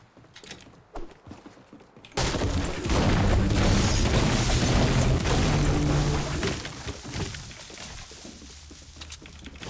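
Grenade blasts in Fortnite Battle Royale's 50v50 mode erupt into a loud, sustained rumbling burst after a quiet start, with heavy low-end booming and crackling debris continuing for several seconds.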